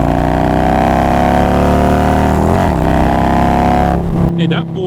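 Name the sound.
Harley Road Glide motorcycle engine at high throttle in third gear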